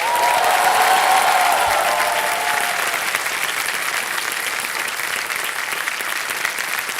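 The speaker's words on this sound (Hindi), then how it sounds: "तालियां बजती रहे।" Loud, steady studio audience applause on a televised quiz show, a dense continuous roar of clapping filling the whole stretch with no talk over it.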